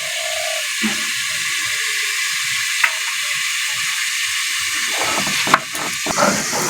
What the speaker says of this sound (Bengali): পাঁচটা শুকনো লঙ্কা আগে থেকে জলে ভিজে রেখে দিয়েছিলাম এবার বেটে নিচ্ছি ভালো করে